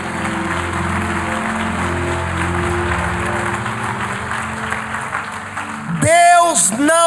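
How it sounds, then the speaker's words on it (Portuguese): Church congregation applauding during a sermon, steady clapping with a background music bed underneath, before a voice enters near the end. "Se é para aplaudir, aplauda com vontade"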